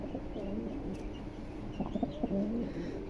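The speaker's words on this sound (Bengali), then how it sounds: "আমি একটু ডাকটা দেখানোর জন্য আপনাদের হাতে নিয়েছি কবুতরটা" A Jacobin pigeon held in the hand coos in a few short, close, rounded calls. The calls get louder and come more often toward the end, over a light background hum.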